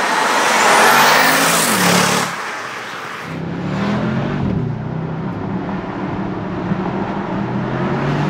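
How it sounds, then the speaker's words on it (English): A 2021 Bentley Continental GT Mulliner, rated at 550 horsepower, launches hard in sport mode on a small road, its loud engine roaring and rising steadily as it accelerates, then holding a strong drone. "Sport mode launch. Oh my God. Okay. Yep, so it can accelerate."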